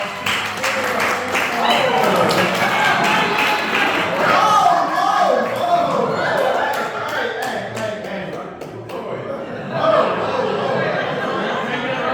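An audience gives a round of applause at a live show in Madison, Mississippi, with clapping mixed with crowd chatter, laughter and a few thumps. It thins out near the end as voices continue.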